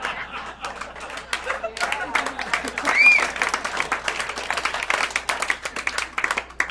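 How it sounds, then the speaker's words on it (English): Audience applause and cheering ring out at a comedy show. Steady dense clapping fills the room, close and lively, with a whistle partway through and voices mixed underneath. "I like that applause here, even from the ladies."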